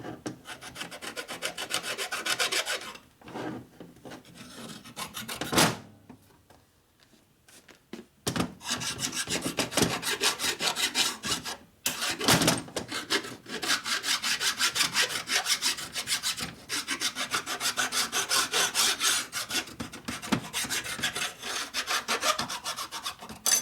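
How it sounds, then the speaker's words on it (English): Continuous rasping strokes of a file taking high spots off metal on a 1977 Harley-Davidson Sportster Ironhead 1000cc engine, steady back-and-forth rhythm with a couple of short pauses, close and fairly loud. "file these. You can hear the high spots coming off."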